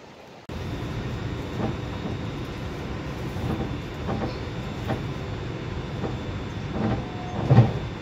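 A train rumbles steadily at close range at Bologna Centrale station in Italy, with periodic rhythmic clanks of the wheels and carriages and a brief louder knock near the end.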